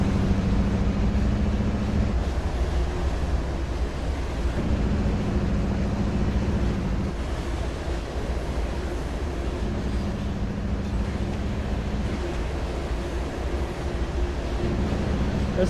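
A CSX freight train rumbles steadily through the Appalachian coal fields in the Trainz game, a continuous loud diesel drone with a low engine tone that rises and falls in pitch from time to time.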